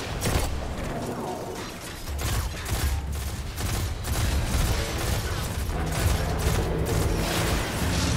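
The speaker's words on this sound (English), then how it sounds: "Miniguns!" A minigun fires in the video game Destiny during a boss fight, a dense, continuous mechanical rattle of rapid shots with clanking that stays loud and steady throughout, and a voice talks briefly over it.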